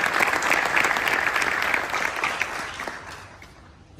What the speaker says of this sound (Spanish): un aplauso por estar aquí con ustedes